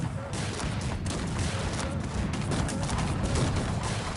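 Cannon and gunfire fill a battle in the video game Cossacks 3, a dense continuous barrage of overlapping shots and booms, loud and unbroken with no pause.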